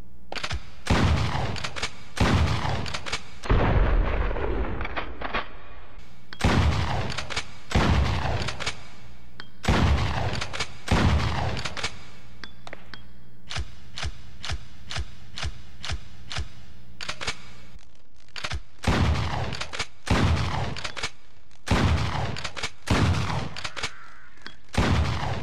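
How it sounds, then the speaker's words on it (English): Remington 870 pump shotgun in Resident Evil Outbreak, blasting repeatedly in loud, evenly spaced booms, each followed by a short pause, with a tight rapid run of shots in the middle and no talking. "it's probably modeled after the original shotgun from Resident Evil 1. The Remington 870, I believe it is. Let's test it out."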